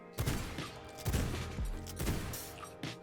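Dual pistols fire in the vampire survival game V Rising, a few sharp shots in bursts spaced about a second apart over steady game music and ambience.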